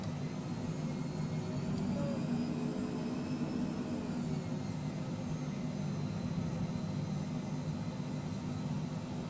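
A Cessna Citation C510 Mustang jet taxis in Microsoft Flight Simulator 2020, its engines holding a steady, even whine and low rumble throughout with no talk.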